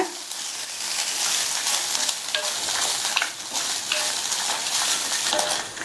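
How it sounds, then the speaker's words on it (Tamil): Grated coconut dry-roasting in a pan makes a steady crackling sizzle with repeated stirring scrapes, close and moderately loud, with no talking. "இந்த தேங்காய் துருவல்ல ஈரப்பதம் இருக்கும், அந்த ஈரப்பதம் போக நல்லா வறுத்துக்கங்க"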